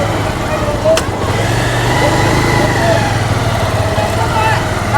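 Motorbike engine droning steadily during a ride along a forest-edge road, a continuous low hum with faint wind and road noise throughout, while someone talks over it.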